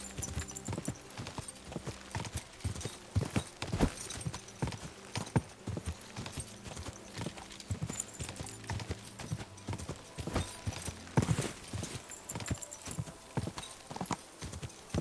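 Horse hooves clip-clop in the medieval role-playing video game Kingdom Come: Deliverance II. The footfalls come in a steady walking rhythm and sound close, with occasional snorts from the horse and a game ambience behind them.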